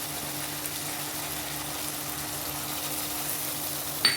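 Ground mustard and chili paste sizzle steadily in a hot pan, an even hiss with one small clink near the end.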